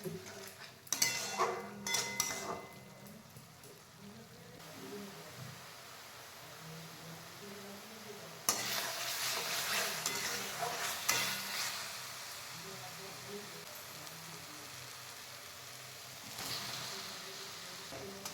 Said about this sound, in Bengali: আলুটা আমি মশলার সঙ্গে 5 মিনিট কষে নেব